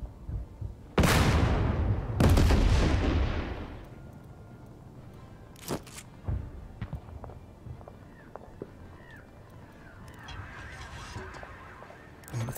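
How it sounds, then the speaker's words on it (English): Artillery fire in the tank strategy game Total Tank Generals: two heavy booming blasts with long rumbling tails early on, then scattered lighter impacts and crackles at a distance. "That's our artillery."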